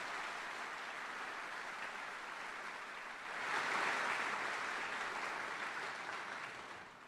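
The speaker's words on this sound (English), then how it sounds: "Let's have another round of applause for the 3rd Infantry Regiment." Applause for the 3rd Infantry Regiment at a U.S. Army retirement ceremony, a steady wash of many hands clapping from a crowd, swelling louder midway and then tapering slightly at the end.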